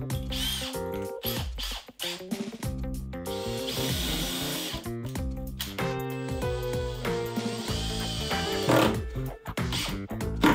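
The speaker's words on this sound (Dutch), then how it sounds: "Hier boren we even weer een gaatje." A power drill bores a small hole in a wooden great tit nest box, a loud close-up whining drone that shifts pitch as the bit bites and stays running almost continuously.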